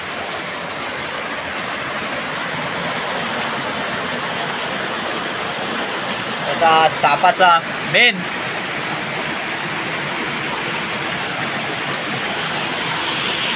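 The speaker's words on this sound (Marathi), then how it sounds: "आता या असा वरनं पाणी येता" Rainwater rushes down from above in a constant, fairly loud stream throughout, with a few brief spoken words over it midway.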